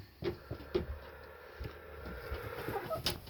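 A hen clucks after laying an egg in a backyard flock: several faint, short clucks near the start, then a low, steady run of farmyard sound and quieter calls.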